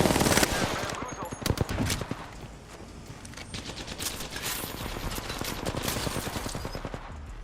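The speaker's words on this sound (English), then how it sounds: "Shots fired and they're hitting me." Apex Legends gunfire, rapid automatic bursts of shots loud and close, continuing almost without pause under a player's voice talking.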